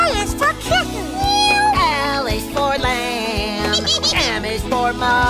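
A kitten meows repeatedly over a bouncy children's song with music, high rising and falling cries spread across the passage.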